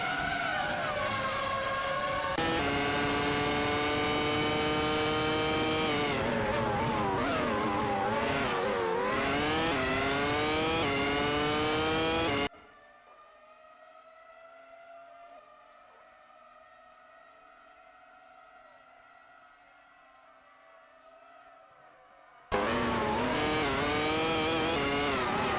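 AI race cars in a racing video game scream past with rising, whining engine pitch and shifting revs, loud and sustained, broken by a quieter stretch of a single engine droning before the roar returns.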